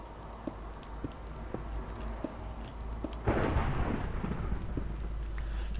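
Rumbling thunder from a Minecraft storm rolls in loud and broad after a few seconds, over a steady low ambient bed with scattered faint clicks.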